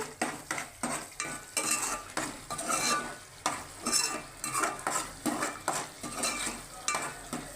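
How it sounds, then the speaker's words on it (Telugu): Sea fish curry (gulivindalu) being stirred in a pan with a metal spoon, producing rhythmic repeated scraping and clinking strokes about twice a second over a soft sizzle, close and steady with no voices. "ఆయిల్ అనేది బయటికి వచ్చినంత వరకు అలా కలుపుతూనే ఉండాలి, అడుగు పట్టకుండా"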